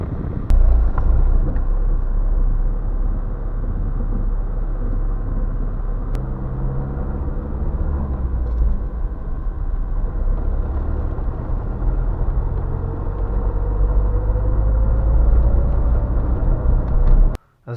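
A car engine warming up and then driving in a snowstorm, a loud continuous low rumble and drone with gusting wind buffeting the microphone, steady throughout and cutting off abruptly at the end.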